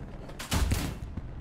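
A tank gun fires once in Hell Let Loose, a heavy, booming blast near the middle followed by a rumbling tail and a softer thud after it.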